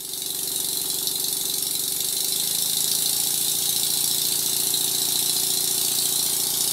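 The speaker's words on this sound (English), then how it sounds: "In this clip, the engine is running at a moderate speed." A small model steam engine runs steadily at moderate speed with a fast, even mechanical rattle and hiss, close and continuous.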